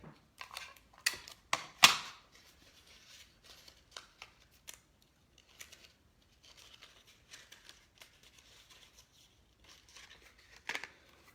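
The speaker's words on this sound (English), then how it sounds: "Add a little more tape so these don't fly away." Strips of tape pulled off a roll and pressed onto a cardboard tube monster craft, with a few sharp ripping bursts early on, then quieter crinkling and handling.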